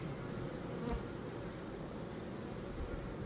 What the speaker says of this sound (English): the bees are just running everywhere because I'm smoking them and shaking them